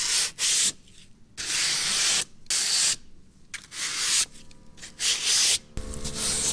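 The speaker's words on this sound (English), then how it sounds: "if I just run my sandpaper over this gently" Sandpaper rubbed gently along the grain of a damaged timber front door, several loud, rough back-and-forth strokes with brief pauses between them, close and with no talk.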